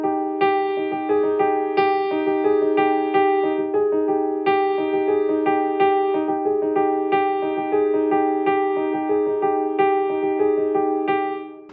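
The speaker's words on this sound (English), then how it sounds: "it sounds like an arpeggiated line" Arpeggiated piano line from a song, a steady looping pattern of bright repeated notes played evenly and clearly, solo piano with no voices.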